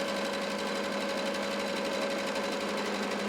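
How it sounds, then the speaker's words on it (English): A sewing machine stitching a hood onto the back neckline of a hoodie runs in one continuous, even whir with a steady mechanical hum and rapid needle pulse, close and uninterrupted, no voices. "we'll sew all the way along the back neckline, connecting the hood to the back neckline"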